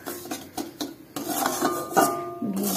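A utensil scrapes and rasps across a pan as semolina is stirred in hot ghee, giving repeated gritty strokes and light metallic clinks close by, with a thin sizzle underneath.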